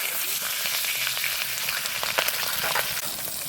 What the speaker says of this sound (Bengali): এবার মাছগুলো ছেড়ে দেবো।